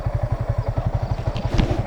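Motorcycle riding down a slippery path after rain, its engine chugging in a fast, regular pulsing rhythm close by, with light clattering and a thump near the end.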